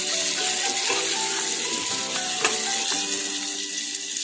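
Roughly chopped onions sizzle steadily in a hot pan while being stirred, a dense continuous frying hiss with faint scraping, no voices.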